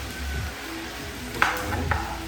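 Onion frying in a pan for a Jamaican-style Sunday dinner, a steady soft sizzle with a couple of brief clinks or stirring knocks partway through, close by and with no talk.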